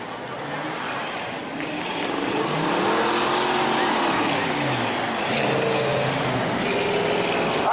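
A Mustang and a pickup truck race on a speedway in a spectator race, their engines a loud, steady roar with rising and falling revs close by, and crowd or announcer noise in the background.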